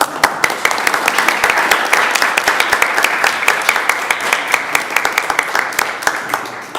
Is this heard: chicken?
no